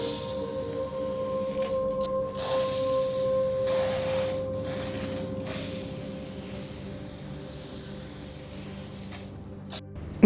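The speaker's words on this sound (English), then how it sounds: "There was also a lot of spray painting involved in this project" Bursts of aerosol spray hiss in several short and long sprays, close up, over a faint steady hum.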